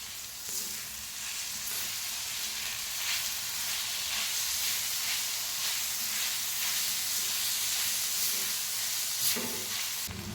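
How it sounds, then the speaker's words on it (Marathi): Chopped tomato hitting browned onions in a hot oiled pan for tawa egg masala, giving a steady, loud, close sizzle and frying hiss with faint stirring scrapes throughout, no voices. "कांदा आपला भाजला आहे याच्यामध्ये आपल्याला टोमॅटो टाकायचा"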